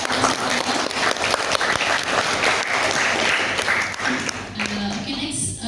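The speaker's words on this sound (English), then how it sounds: "Sekali lagi boleh applause untuk" Audience applause fills the room after a poetry reading at a peace talks event: dense, steady clapping from a crowd that holds at full strength for several seconds before thinning slightly at the end.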